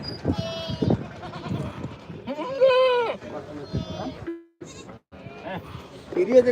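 Goats bleat in short calls among people talking nearby in a busy, noisy goat market.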